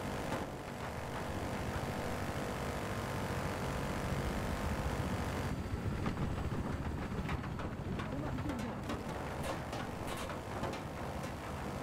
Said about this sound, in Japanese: 目の前からヘリ来てるから